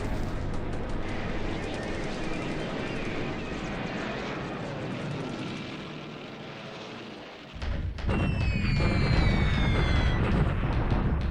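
Naval bombardment by battleships on Chittagong in a 1943 war strategy video game: a steady, dense roar of gunfire gives way to a sudden louder burst of booming blasts with whistling tones that keep going to the end.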